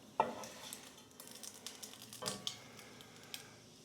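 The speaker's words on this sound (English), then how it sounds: "I forgot to turn off the heat on the bacon" Bacon sizzling in a hot pan, a faint crackle broken by scattered sharp pops and clinks of utensils.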